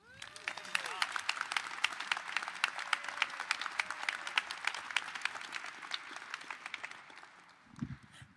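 A crowd at a Detroit NFL Draft countdown event applauds steadily for several seconds, many hands clapping with sharp individual claps, fading out near the end, with some voices beneath.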